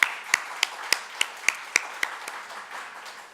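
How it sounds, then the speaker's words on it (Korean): A single person claps in a slow, even rhythm of about eight crisp hits, close and fairly loud in a quiet church setting, offered as encouragement to the congregation. "우리 서로에게 우리 격려의 박수 함께 나눌까요?"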